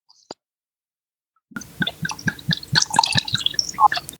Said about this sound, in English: That sounds like wine is being poured.